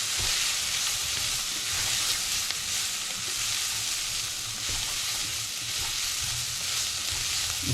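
A spice mix is stirred in a frying pan, and a constant loud sizzle fills the clip with faint scraping from the stirring mixed in, and no one speaks.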